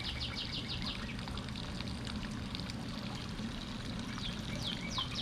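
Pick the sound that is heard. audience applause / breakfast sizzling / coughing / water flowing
water flowing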